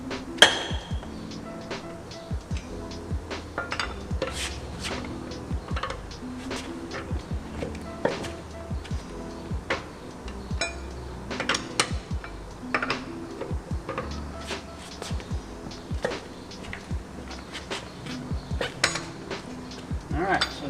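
Metal clanks and clinks from a wrench working loose the lug nuts on a car wheel during a tire change, a steady run of sharp knocks and rattles close by, with no talk over them.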